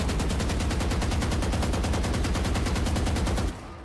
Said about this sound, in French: Si vous tirez sans contrôler votre spray, vous allez voir le pattern.